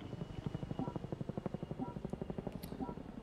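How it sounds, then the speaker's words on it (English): Helicopter rotors thump in the video game Armored Warfare, a steady rapid chopping beat at moderate distance, continuous throughout with faint background noise. "Choppers."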